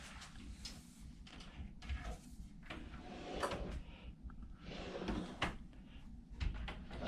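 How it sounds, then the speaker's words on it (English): Drawers in an interior cruise ship cabin sliding open and shut, several soft wooden scrapes and thuds close by at an uneven pace, under faint room tone. "Several drawers."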